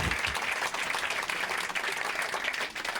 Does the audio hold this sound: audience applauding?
yes